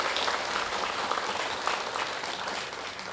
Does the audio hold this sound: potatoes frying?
no